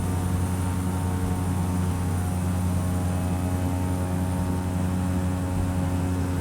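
A propeller airplane engine in a flight simulator game drones steadily and loudly, a constant buzzing hum with strong low harmonics that stays unchanged throughout, with no voices.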